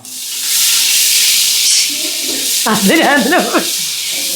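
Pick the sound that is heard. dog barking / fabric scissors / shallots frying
shallots frying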